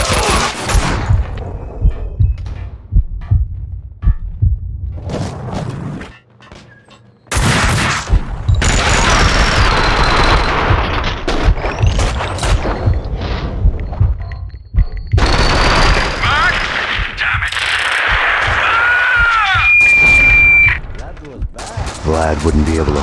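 Bursts of gunfire from the video game Max Payne 2, loud and repeated, mixed with game music and effects, with voices speaking in between.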